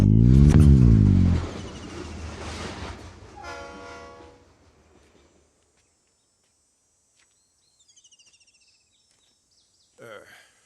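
A train rolls along a railway line right beside the spot, loud and rumbling with horn-like tones for the first few seconds, then fading away into near silence with only a few faint distant sounds.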